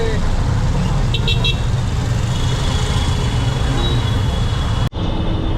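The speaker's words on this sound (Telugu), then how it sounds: "ట్రాఫిక్ ట్రాఫిక్ ట్రాఫిక్ ఉంది" Dense road traffic in Hyderabad roars steadily up close, with short car horn toots breaking through the engine din and a voice speaking over it.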